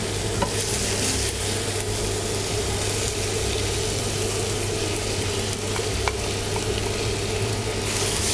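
Ground green chili stir-fried in a hot pan sizzles steadily and loudly throughout, with the occasional scrape of a utensil stirring it.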